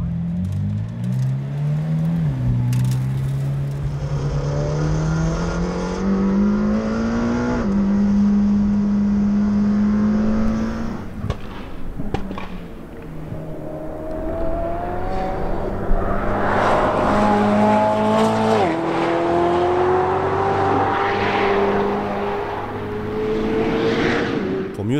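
2018 McLaren Senna, an 800-horsepower supercar under 1200 kg, accelerating hard through several gears, its engine pitch climbing and dropping at each shift, loud and close with a roaring, rasping exhaust.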